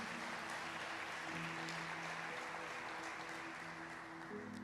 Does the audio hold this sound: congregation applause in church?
yes